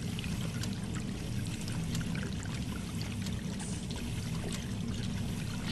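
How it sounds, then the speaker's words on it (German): Steady running water pours continuously in the video game Hello Neighbor, a dense, even rush with a low rumble and no talking over it. "Muss ich da zufällig das Wasser abdrehen?"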